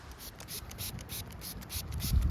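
ShineArmor cleaner is sprayed as a light mist onto car paint, a run of short, evenly spaced trigger hisses about a quarter second apart, close and soft, with faint rubbing underneath.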